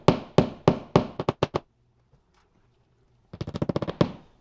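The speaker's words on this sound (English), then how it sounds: "we're needing to use the hammer to get it in" Hammer blows drive wall anchors into drywall for a Honeywell Lyric alarm install: a quick run of about seven close, sharp taps that speed up, a pause, then another rapid burst of lighter taps.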